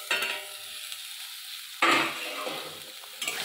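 Eggplant frying in a home kitchen pan, a soft continuous sizzle that swells sharply partway through as it is stirred, with faint scraping and ticks and no talking.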